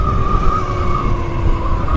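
A Zero FX electric dual sport motorcycle accelerates, giving a steady electric motor whine that slowly drops in pitch over a rough, continuous rumble of tires and wind, fairly loud and close, with no talk.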